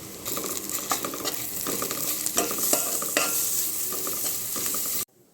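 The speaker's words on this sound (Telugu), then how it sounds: "తర్వాత అల్లం వెల్లుల్లి పేస్ట్, తగినంత పసుపు వేసుకొని పచ్చి వాసన పోయేటట్టు కలుపుకోవాలి." A spoon stirs ginger-garlic paste and turmeric frying in a pan for paneer biryani, with steady sizzling and repeated scraping strokes, close and moderately loud, stopping abruptly near the end.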